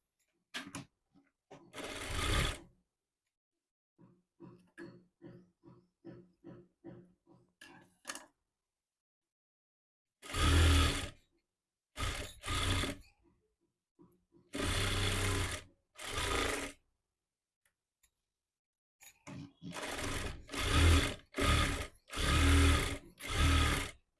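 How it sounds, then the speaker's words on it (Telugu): A sewing machine stitches a seam on a Punjabi pant in several separate bursts of rapid mechanical whirring, with short quiet pauses and lighter ticking in between. "ఇటువైపు కూడా ఒక గట్టి కుట్ట అనేది వేసేయాలి"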